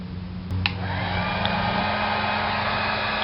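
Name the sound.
heat gun blowing on brake light vinyl tint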